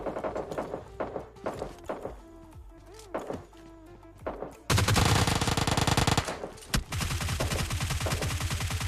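UMP submachine gun fire in PUBG Lite, first as scattered single shots and short bursts, then as dense, loud rapid-fire volleys in two long runs separated by a brief gap.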